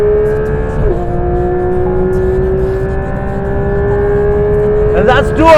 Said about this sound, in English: And a full throttle.